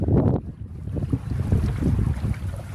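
A MacGregor sailboat under way with colored sails, wind buffeting the microphone and water rushing and slapping against the hull, loud and continuous.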